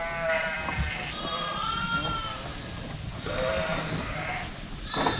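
Ewes bleat repeatedly in a flock on a farm, several wavering, nasal calls overlapping at close range, one after another with little pause between them.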